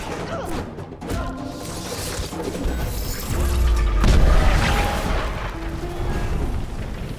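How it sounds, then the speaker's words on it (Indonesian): An aircraft explodes and crashes onto land in a film scene, giving a dense, rumbling blast with crashing debris that builds to a deep, heavy boom midway and then lingers as a noisy roar. "membuat pesawat meledak dan jatuh di daratan"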